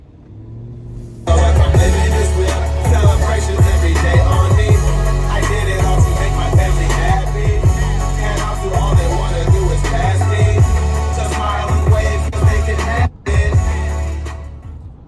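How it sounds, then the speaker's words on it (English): Bass-heavy music with the bass turned up plays loudly through the Bose surround sound system of a 2021 Chevrolet Tahoe High Country, with strong thumping low end and a steady beat throughout, briefly cutting out near the end. "that's just a quick test of the surround sound Bose system"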